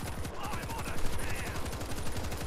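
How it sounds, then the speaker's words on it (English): Rapid mounted-turret gunfire from a World War Z zombie shooter, a dense continuous stream of shots throughout with layered game noise and a faint voice underneath. "I'm gonna use this big boy turret"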